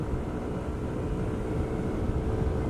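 SYM Cruisym 150 scooter from 2020 pulling away on Araneta Avenue, a steady low engine drone with road noise that holds evenly throughout with no voices.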